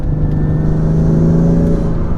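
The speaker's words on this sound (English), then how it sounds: "under load, there's a really nice spool sound" A BMW M3 with new intakes under load at half throttle gives a steady engine drone, with a rising turbo spool whine layered over it, heard from inside the cabin with the windows up.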